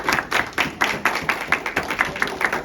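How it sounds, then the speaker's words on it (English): Small group clapping for visitors, a quick series of about a dozen rhythmic claps, close and fairly loud, in a regular beat rather than scattered applause. "let's give a clap to all of our visitors"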